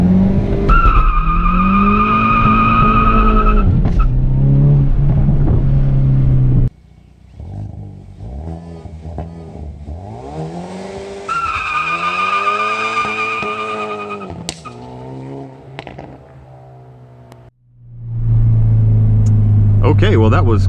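A Hyundai Veloster N does a burnout in reverse: the engine revs hard while tires squeal in long sustained screeches, loud and close, with the engine dropping and surging again.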